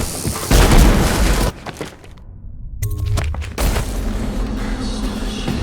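Explosion in the stealth video game Dishonored: The Knife of Dunwall, a loud broadband boom with crashing debris that cuts off into a brief hush, followed by rumbling game ambience and further impacts.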